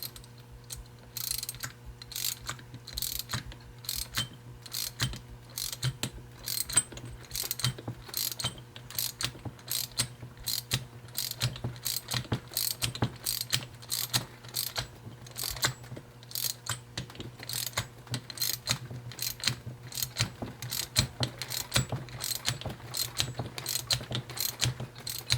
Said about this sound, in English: We're going to tighten it all the way down.